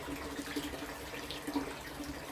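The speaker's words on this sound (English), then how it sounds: "the surface movement and splashing from that intake" A pond pump intake churns and splashes water at the surface of a small koi pond of about 1,000 litres, a soft continuous trickling wash at low level.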